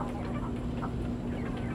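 Farm chickens cluck steadily in short, scattered calls over a constant low hum, fairly close, with no one speaking.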